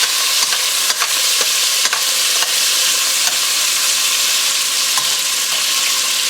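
Pork sizzles steadily in a hot pot as it browns, a continuous bright frying hiss with occasional soft stirring scrapes and no talking.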